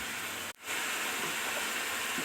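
Mutton frying in ghee for a korma, a steady broadband sizzle and hiss, close and continuous, briefly cut off for a moment before resuming.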